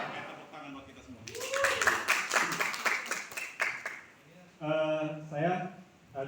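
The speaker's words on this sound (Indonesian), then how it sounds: "Tepuk tangan buat kita semua." A group at a morning gathering of a training workshop claps together in a dense, lively burst of applause that fades out after a few seconds, with people talking before and after it.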